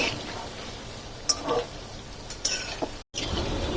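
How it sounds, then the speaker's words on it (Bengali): Luchi frying in hot oil, a steady low sizzle with a few soft clinks and stirring taps, close and fairly quiet, briefly cutting out near the end. "আর আরেকটু লাল লাল করে ভেজে নেবো"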